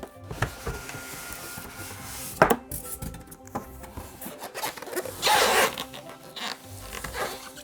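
A Wētā Workshop envelope being opened: repeated paper tearing and rustling bursts, one sharp rip near the middle and a longer ripping stretch later, close and fairly loud with no talk.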